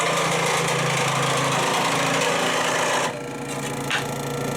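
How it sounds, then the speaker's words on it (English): A heavy-duty sewing machine runs loudly with a steady mechanical whir and rattle, its tone shifting slightly as it slows near the end. "Looks like a bloody sewing machine. It is. It's a man sewing machine."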